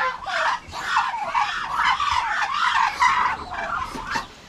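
Turkeys and young turkey chicks in a pen keep up a busy overlapping chatter of clucks and high peeping calls, fairly close and continuous with no pauses.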